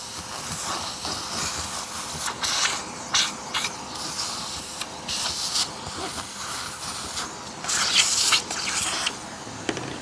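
A late-1990s Eureka WhirlWind 5190 bagless self-propelled vacuum cleaner sucks debris out of a part, a steady loud airy hiss with intermittent rattling bursts as material is pulled through, close throughout.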